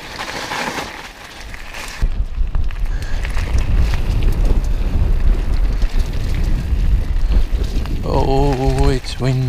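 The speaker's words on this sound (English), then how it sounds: "Oh, it's windy." Loud, continuous wind roar buffets the microphone while mountain biking on a bike park race track, blustering throughout, with a brief voice near the end.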